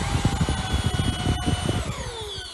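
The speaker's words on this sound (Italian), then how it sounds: "È molto silenzioso come aspirapolvere" A Xiaomi V10 cordless stick vacuum runs with a steady, close whirring hum and a high motor whine that drops slightly toward the end.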